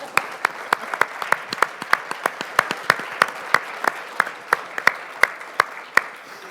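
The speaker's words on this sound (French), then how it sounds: "merci Louise, on peut applaudir le panel." Applause for a panel at an energy conference, sparse and distinct: a few hands clapping in steady, evenly spaced beats that stand out from a quiet room.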